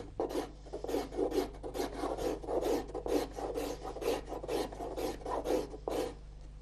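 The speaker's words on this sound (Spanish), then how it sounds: "Con las diferentes cuchillas de acero, Ramón va rascando la superficie de la tapa hasta dejarla bien pulida." A steel scraper rasps across a violin's wooden top in quick, regular strokes, close and dry, repeating steadily without pause.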